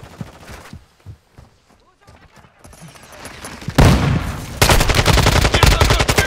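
Call of Duty DMZ gunfire erupts as rapid automatic bursts, loud and dense in the second half, after quieter footsteps and talk.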